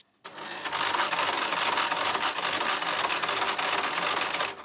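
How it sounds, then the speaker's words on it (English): Sewing machine stitching a strip of paper and fabric for a junk journal, a steady fast whirring run of needle strokes lasting a few seconds, close and alone. "let me go and just start the sewing down here and see where we go from there"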